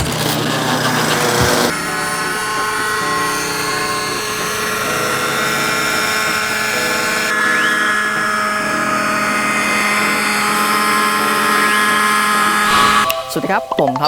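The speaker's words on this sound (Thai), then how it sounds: "วันนี้ผมก็จะพามาบินเฮลิคอปเตอร์บังคับ" A size-600 Schweizer 300 RC nitro helicopter flies outdoors in a strong evening wind, its engine a loud, steady high-pitched whine with rising and falling rotor tones that holds throughout, while someone speaks over it.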